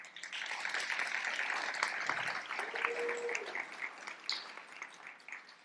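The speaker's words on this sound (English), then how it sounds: "Please give him a round of applause." Audience members at a leadership institute demo day clap for a returning judge, a fairly faint but continuous patter of applause heard from a distance across the room.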